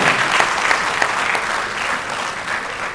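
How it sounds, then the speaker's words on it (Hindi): A crowd claps loudly and continuously at a dance and theatre performance event, a dense wash of applause that fades slightly toward the end. "जोरदार तालियां बजाइए।"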